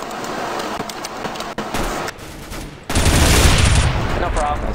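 Gunfire in CS:GO, with scattered shots early, then a loud, dense burst of rapid automatic fire in the second half, and a player's voice talking in between.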